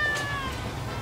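A cat lets out a single clear, loud meow close up; it trails off into a quiet background.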